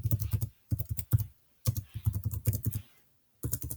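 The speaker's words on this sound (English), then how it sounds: "I'll just type this out." Computer keyboard typing comes in quick clusters of close, crisp key clicks separated by brief pauses, with no talking.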